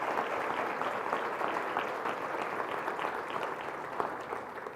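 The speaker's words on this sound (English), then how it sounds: "let's have a round of applause for Jon Huntsman." Sustained applause from a large audience at a corporate annual state-of-the-company event, steady dense clapping throughout with no speech over it.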